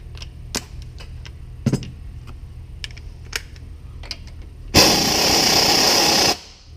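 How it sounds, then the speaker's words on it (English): Scattered clicks and metallic taps, then a loud power tool whirs for about one and a half seconds and cuts off, driving 15mm thread-locked bolts into a heavy-duty double cardan front drive shaft during a Mopar 4-inch Jeep lift kit install. "we've got 4 bolts to go in here. Make sure they are thread locked."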